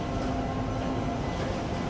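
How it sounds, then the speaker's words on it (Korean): Underground ambience at Yeouido station on Seoul subway Line 5, a transfer point with Line 9: a dense, continuous rumble and hiss of trains and station noise, steady and fairly loud throughout with no voices. "지하철 5호선 여의도역에서 인사드립니다"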